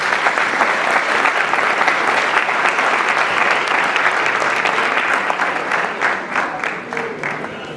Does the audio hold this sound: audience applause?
yes